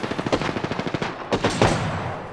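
Rapid automatic gunfire in the Apex Legends video game, a steady burst of evenly spaced shots followed by a couple of heavier single shots, loud and close, with no talking.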